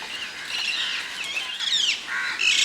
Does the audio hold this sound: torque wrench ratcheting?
no